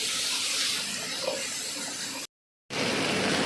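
Cabbage, capsicum and ginger-garlic paste fry in a pan for soybean chilli, giving a steady close sizzling hiss that cuts out briefly and then resumes.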